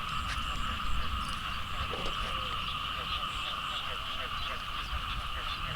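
Frogs croak in the rain as a continuous, fairly faint chorus over the steady hiss of rainfall, with no other sound standing out.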